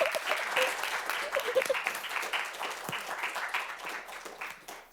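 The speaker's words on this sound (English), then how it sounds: "Yeah, round of applause." Audience applause closing a panel discussion on learning, a dense patter of many hands clapping that stays steady and fairly loud before slowly tapering, with a few faint voices mixed in.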